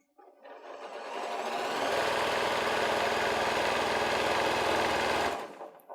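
A sewing machine stitches a fabric seam on an autumn fabric bucket with a pumpkin applique, running as one steady, rapid, close mechanical whir for about five seconds before stopping, with no talking.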